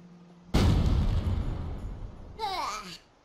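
A cartoon explosion in the Worms Ultimate Mayhem video game, a sudden loud booming blast that rumbles and slowly fades, followed by a brief whistling, sliding squeal near the end, with no talk.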